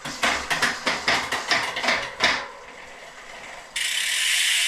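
A Wheeltop EDS-TX wireless electronic bicycle groupset runs quickly down the cassette in a rapid series of about eight sharp mechanical clicks, then falls quiet before a steady hiss takes over.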